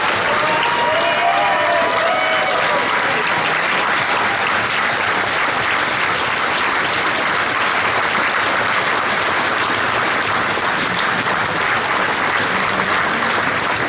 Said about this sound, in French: Merci à vous tous et merci de nous applaudir.